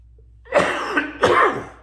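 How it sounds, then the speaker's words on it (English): Two harsh coughs in quick succession, close and fairly loud, with quiet before them. "Dealing with a little bit of a cough, obviously."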